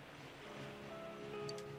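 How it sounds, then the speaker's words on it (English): Waves crash steadily in a Persona 4 Golden game scene, a soft continuous surf wash with faint tonal music lines running beneath and no talk. "The only sound you hear is the crashing of the waves."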